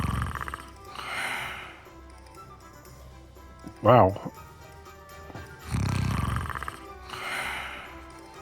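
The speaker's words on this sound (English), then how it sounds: "cut out the snoring a bit, mate." In-game snoring from a character in Hogwarts Legacy, a few low rasping breaths in the village of Hogsmeade, with a player talking over them and a brief loud snort partway through.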